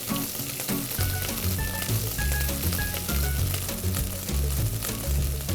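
Turkish kavurma with mastic and ginger sizzles and fries steadily in a pan after a couple of lemon leaves are added, a loud continuous crackle with no talking.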